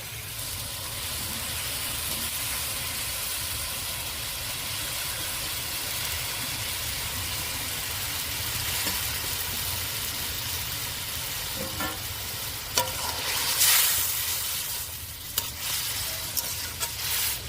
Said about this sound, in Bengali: এবারে তরকারিটা ফুটিয়ে নেব ঝোলটা ফুটে গেছে ওর মধ্যে যে বড়াগুলো দিয়ে দেবো